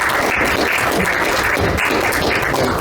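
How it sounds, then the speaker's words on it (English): Loud, steady audience applause at an air transport awards ceremony, continuous dense clapping throughout with no pauses. "And join me to applause."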